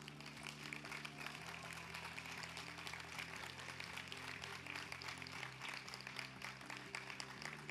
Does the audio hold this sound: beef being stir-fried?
no